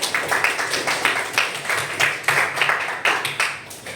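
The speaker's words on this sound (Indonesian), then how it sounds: "Tepuk tangan. Give applause." A small classroom group claps in a rhythmic, fairly even beat of distinct hand claps, close and moderately loud, continuing steadily with slight unevenness before fading at the end.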